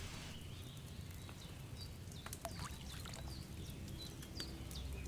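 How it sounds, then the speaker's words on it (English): Wine pours into a dish during potion brewing in Kingdom Come, a steady liquid trickle running throughout, with faint chirpy game ambience layered over it. "Pour wine."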